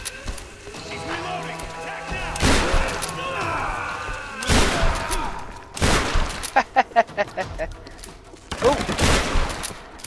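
Tomb Raider gunfire: bursts of close shotgun and rapid automatic shots, loud cracks clustered in several volleys with a short fast rattle, a voice briefly exclaiming between them.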